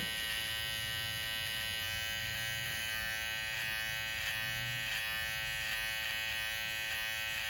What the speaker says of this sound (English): just come down with your clipper, with your detailer LI, it'll blend it right in for you